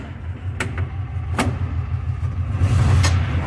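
Kawasaki Mule 3000 utility vehicle idling nearby, a steady low engine rumble with a few sharp mechanical clunks from the gear shift lever.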